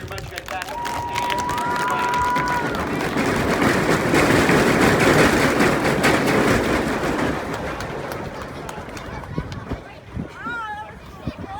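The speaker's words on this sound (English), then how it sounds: "Big round of applause for everybody" Applause for a grade school marching band exhibition swells into a broad, sustained clapping roar from a crowd, then tapers off into scattered claps, with voices talking throughout.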